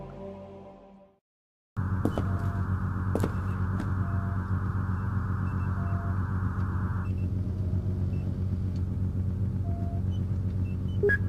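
A car drives in the Tomb Raider video game: after a brief silence, a steady low engine rumble drones on evenly and unchanging, with a few faint clicks over it.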